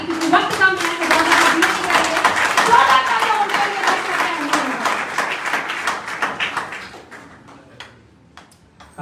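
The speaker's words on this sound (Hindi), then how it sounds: "मैं चाहूंगी कि एक जबरदस्त तालियां होगी" Clapping from a seminar audience, dense and lively at first, then thinning into scattered claps toward the end, with a voice speaking over it throughout.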